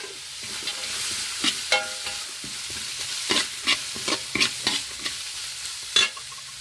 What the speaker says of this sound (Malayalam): ഇഞ്ചി വെളുത്തുള്ളി വറ്റൽ മുളക് കറുവാപ്പട്ട ഇതെല്ലാം കൂടെ നമുക്കൊന്ന് മിക്സ് ചെയ്തിടാം എന്നിട്ട് നമുക്ക് നന്നായിട്ടൊന്ന് ഇളക്കാം